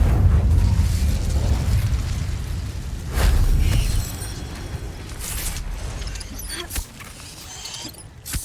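Incendio fire spell blasts in Hogwarts Legacy, loud rumbling bursts with a booming roar that swells again midway, then softer crackling pops and whooshes trailing off.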